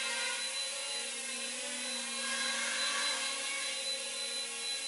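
A Walkera QX quadcopter flies nearby with a steady, high-pitched motor whine and buzz that holds at an even level throughout, with no voices.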